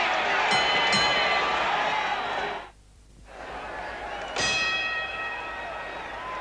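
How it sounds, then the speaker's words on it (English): A boxing ring bell ending a round at the 1972 Muhammad Ali vs Jerry Quarry heavyweight title fight. Clear, ringing strikes cut through a loud arena crowd, then a short lull, then the bell rings again over the crowd noise. "The bell has sounded for round six"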